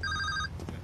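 A telephone bell rings loud and close in a single short electronic burst, cutting off abruptly into low room noise.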